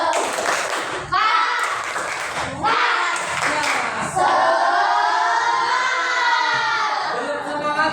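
A group at a teacher training session on computational thinking claps in a rhythmic spirit-clap pattern, with loud bursts of hand claps in short sections and mixed voices chanting and calling out throughout.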